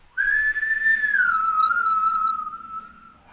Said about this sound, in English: loud whistle coming from up the hallway